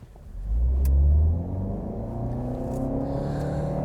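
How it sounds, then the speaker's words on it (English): A car with a CVT transmission roars as it accelerates hard toward 100 km/h, then holds a steady high drone at constant pitch near redline, with no voices. "Typical CVT, it pegs the engine at red line and there it stays"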